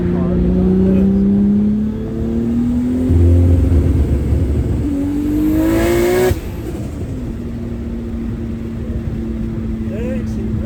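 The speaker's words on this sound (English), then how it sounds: "It mostly rides like a stock car" A car that rides like a stock car revs hard while driving, its engine pitch rising in two loud climbs before it settles into a steady, lower drone.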